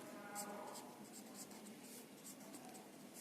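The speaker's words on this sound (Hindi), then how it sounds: "मैं यहां पे लिखती हूं" Faint scratching of a pen or marker writing out a maths inequality, short quiet strokes in a soft, steady rhythm.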